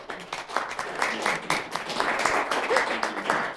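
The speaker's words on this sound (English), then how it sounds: "Can you hear us clap?" Clapping from a small group at an online seed-program talk, fairly faint and slightly uneven, with distinct individual claps over a few seconds.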